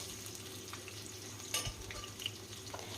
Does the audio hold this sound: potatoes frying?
yes